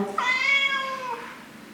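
Recorded cat voice played from a talk-to-cat phone app, a single drawn-out meow lasting about a second, clear and fairly close, with nothing else around it.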